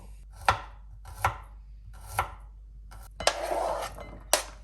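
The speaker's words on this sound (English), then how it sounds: "Now let's cut garlic as well." A knife chopping garlic on a cutting board, five sharp separate knocks spaced about a second apart with a brief scraping rub between them, close and clear, no talking.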